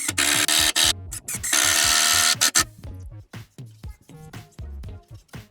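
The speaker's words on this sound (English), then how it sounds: "Now we screw them in." A power drill drives screws into wooden boards for a bed frame in short, loud whirring bursts that stop and start, with rhythmic spurts trailing off near the end.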